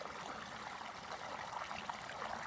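Creek water swirling into a culvert vortex on a rural homestead property, a faint continuous gurgling rush that stays even throughout.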